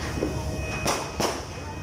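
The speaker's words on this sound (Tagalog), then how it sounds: "So, paputok lang to." Two sharp firecracker bangs from New Year celebrations, about a third of a second apart, stand out against a steady outdoor background.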